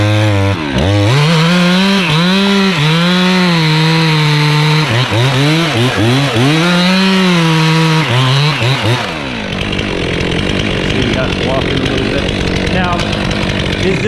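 A chainsaw finishing a cut through a tree: loud close engine revving up and down in repeated surges as the chain bites, then the pitch drops into a rougher, steady running tone as the cut ends.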